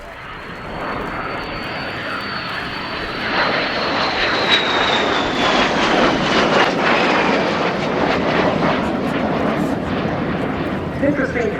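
A de Havilland Vampire jet aircraft making a display pass, its loud engine roar building steadily to a peak and holding, with a commentator talking over it.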